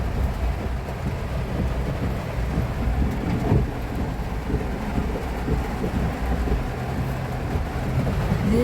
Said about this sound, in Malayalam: ഇവിടെ നല്ല മഴയുവാണ്